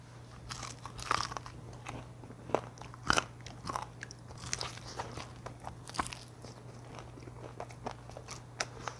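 Bites and chewing on a crunchy soy-sauce fried chicken drumstick with a thin, crisp batter coating, giving repeated close, sharp crackling crunches spread through the clip over a steady low hum, with no talking.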